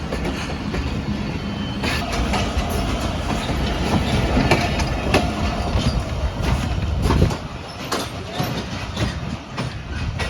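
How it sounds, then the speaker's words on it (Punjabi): The Jaffar Express passenger train, running from Quetta to Peshawar, passes through a station, a loud close rumble with rhythmic clickety-clack of wheels over rail joints and occasional metallic squeals, steady throughout. "ਇਹ ਜੀ ਕੋਇਟਾ ਤੋਂ ਆਈ ਜੇ ਪਿਸ਼ਾਵਰ ਜਾਣ ਵਾਸਤੇ, ਤੇ ਟ੍ਰੇਨ ਦਾ ਨਾਮ ਹੈ ਜਾਫਰ ਐਕਸਪ੍ਰੈਸ।"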